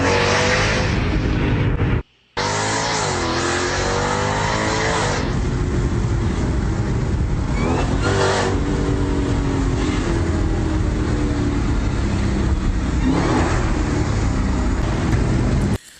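A Jeep Trackhawk engine revs and accelerates loudly, a continuous roaring drone that rises and falls in pitch with a brief gap near the start, and no voices.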